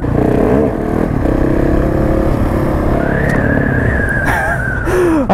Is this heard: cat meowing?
no